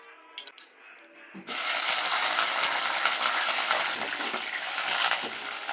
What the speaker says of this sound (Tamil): எல்லாத்தையும் இப்போ வதக்கிக்கலாம்